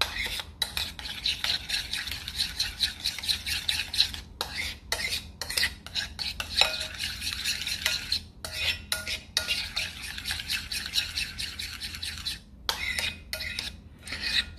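A utensil beats mustard briskly in a bowl for homemade mayonnaise, rapid rhythmic scraping and clicking strokes in close-up with short pauses between bursts, and no voices.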